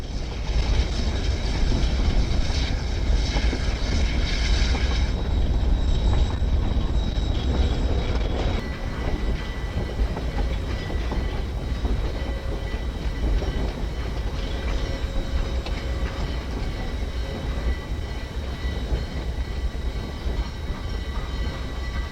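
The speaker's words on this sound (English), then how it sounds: "That afternoon, the train arrives in Durango." A Rio Grande narrow gauge train arrives in Durango, its loud, steady rumble and rail noise continuing throughout, with faint rhythmic clatter of the wagons and a bright hiss that drops away partway through.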